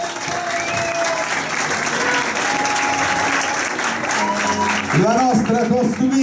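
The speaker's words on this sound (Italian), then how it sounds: "applauso per Totò." Steady applause from a crowd at a school show, dense clapping filling the whole stretch, with voices rising over it in the last second.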